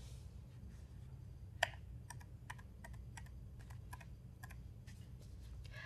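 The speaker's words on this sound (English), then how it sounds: "We can scroll through these commands with the up or down keys on our keyboard." Quiet, steady computer keyboard typing at a terminal command prompt: a string of light, evenly spaced key clicks with one sharper tap, over a low room hum, with no voices.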